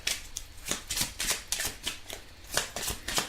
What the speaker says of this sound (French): on va tirer quelques cartes pour toujours les cancers